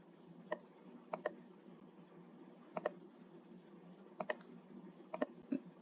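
Computer mouse clicking while designing an invitation, faint close sharp clicks coming singly and in quick pairs at irregular intervals over a quiet room hum.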